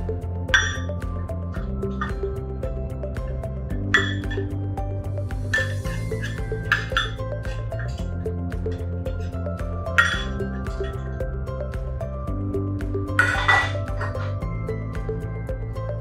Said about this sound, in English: Bowls can be loaded in this bowl rack.